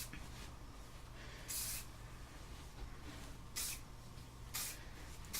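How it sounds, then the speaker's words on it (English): Three short, soft hisses of hairspray sprayed through the hair, spaced a second or two apart over a low background rumble. "So I just kind of start spraying it through"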